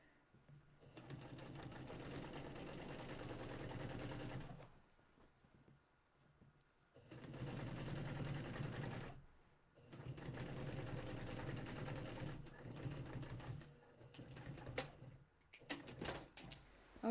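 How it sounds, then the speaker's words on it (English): A sewing machine stitching a hem in several runs, a rapid whirring mechanical rattle that starts and stops with short pauses between bursts, close up. "it does have a little more noise when you're stitching, but it certainly stitches perfectly well and gives a nice stitch"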